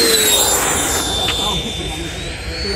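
A Freewing 80mm T33 RC jet model airplane with electric ducted fan flies overhead, giving a loud steady whine and roar that holds throughout with a slight shifting pitch.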